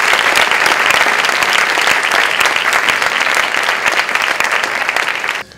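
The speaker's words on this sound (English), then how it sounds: "all of you guys deserve a big round of applause again" A film festival crowd gives loud, dense applause that carries on steadily and evenly, then cuts off abruptly near the end.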